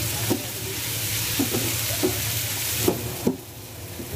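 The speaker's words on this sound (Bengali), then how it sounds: "পেঁয়াজ আর টমেটোর মিশ্রণটা আমার ভাজা ভাজা হয়ে গেছে।" An onion and tomato mixture with chopped green chili fries in a pan with a steady sizzle, while a utensil stirs it, scraping and tapping about five times at irregular intervals, close by with no talking.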